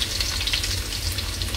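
Ginger sizzles in a hot pan after the garlic for a shrimp dish with ground peanut, a dense, steady frying hiss up close that fills the short moment, no voices.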